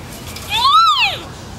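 A single parrot call at a parrot jungle, one loud rising-and-falling squawk lasting under a second, close by with light background noise.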